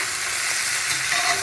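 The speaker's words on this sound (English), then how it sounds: "we browning our turtle." Flour-dusted turtle meat browning in a pan for turtle sauce piquante, a continuous loud crackling sizzle heard up close with no voices over it.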